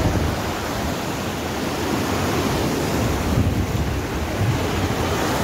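Sea waves surge and break on Mandarmani beach while strong wind buffets the microphone, a continuous loud roar of surf and gusts with no voices.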